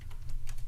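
A few quick keyboard key taps while typing an email address, faint clicks over a heavy low hum in a very short moment.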